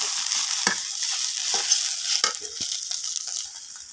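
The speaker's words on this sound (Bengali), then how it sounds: "এই যে ভাজি হয়ে গেছে এখন নামিয়ে নিতেছি" Vegetable bhaji being stirred in a frying pan, a steady oily sizzle broken by several scraping strokes of the spoon against the pan, close and fairly loud with no talking.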